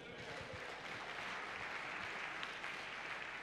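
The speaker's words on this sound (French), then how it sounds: "On peut acclamer cette parole." A church congregation at a Sunday worship service breaks into steady, dense applause that fills the room evenly from start to finish, with no voices standing out above the clapping.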